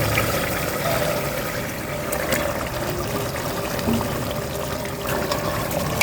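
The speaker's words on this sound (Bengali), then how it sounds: "তো এখন আমি মাংসগুলো দিয়ে দিব।" Beef pieces dropped into a pot of hot oil and fried spices set off a steady, close sizzle and bubbling that holds at an even level throughout, with no talking.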